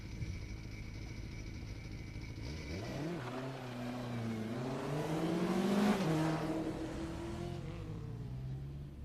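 A modified Mazda Miata race car pulls away from the start line at an autocross event at Daytona, its engine rising through gears in a climbing, revving whine that swells louder toward the middle before easing off.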